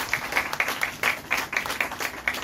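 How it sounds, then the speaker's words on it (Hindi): Applause welcoming a guest at a BJP women's wing workshop in a party office, a steady run of individual hand claps, fairly close and moderately loud, with no talking. "जोरदार तालियों से उनका स्वागत किया है"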